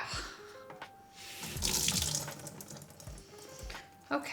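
Water from a tap runs into a bathroom sink to wet makeup, a close splashing rush that starts, swells for a couple of seconds, then fades with a few softer gurgles and handling knocks.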